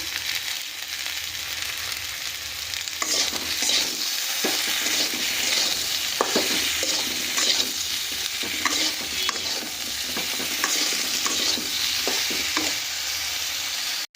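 Chopped radish and taro fry in a pan with a continuous loud sizzle, broken by repeated scraping and clattering strokes of a spatula stirring the vegetables up close, no talking.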